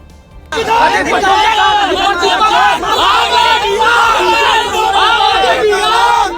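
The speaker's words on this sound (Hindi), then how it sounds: "गुस्साए लोग नारेबाजी कर रहे थे" Angry crowd in Jalore, Rajasthan, gathered after a bus overturned, shouting slogans at a legislator; a dense, loud outdoor mass of raised voices and babble that continues steadily throughout.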